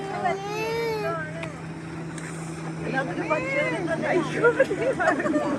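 A speedboat runs with a steady low engine drone on the water, while several people, including children, talk and shout excitedly close by over the motor.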